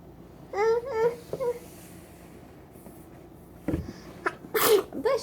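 A baby gives a single sharp sneeze near the end, preceded by soft babbling and quiet vocal sounds in a calm indoor room.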